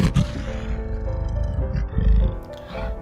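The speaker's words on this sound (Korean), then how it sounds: "완인이가 지나친 풀숲 저편에서 바라바라의 포효 소리가 들려왔다." A lion's deep roar, used as an audiobook sound effect, rumbles low and loud for three seconds and swells into a heavier growl near the end, with steady tones sustained underneath.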